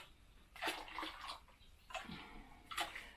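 Warm water poured into flour and mixed for mandazi dough in a village kitchen, three short faint splashing bursts separated by quiet pauses.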